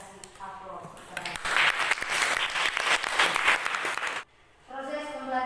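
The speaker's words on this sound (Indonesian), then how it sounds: "Mari kita kasih aplaus kepada." A classroom audience claps for several seconds, dense and steady, then the clapping stops abruptly and a voice talks afterward.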